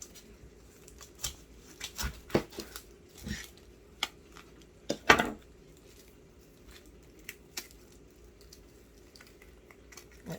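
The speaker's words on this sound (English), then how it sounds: "And it calls for 1 large onion. Chopped. So I'm going to chop it by hand." An onion is chopped by hand with a knife for a squash casserole, giving a series of irregular, sharp cutting taps and thuds spaced over the stretch, close by and fairly quiet, with no talking.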